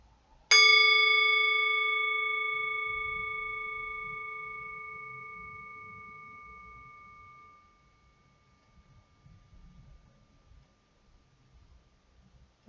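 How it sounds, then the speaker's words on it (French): A single meditation bell strike rings out clearly in a quiet room, its pure tone fading slowly over several seconds, followed by faint low room noise. "d'écouter le son de la cloche depuis le début jusqu'à la fin"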